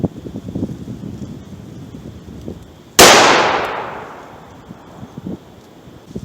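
A .357 Magnum fires a single 125-grain hand load over 10.1 grains of Power Pistol. One loud, sharp report cracks out mid-clip and trails into a long ringing decay over a low outdoor rumble, with no talk.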